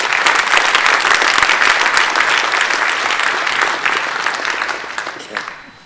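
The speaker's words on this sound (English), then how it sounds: "please give these folks a round of applause as well" Conference plenary audience applauding steadily, a dense wash of many hands clapping that holds loud and then tapers off near the end.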